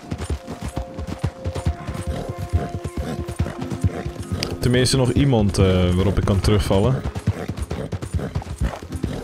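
A horse's hooves clip-clop in rapid rhythmic beats in Red Dead Redemption 2, with a whinny midway, under someone talking.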